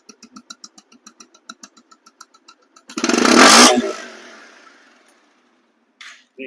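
A second-hand Bajaj Pulsar DD motorcycle from 2020/21 idles with a rapid, even chain of exhaust pulses, broken by a loud, brief burst of noise, then near silence with a faint sound near the end.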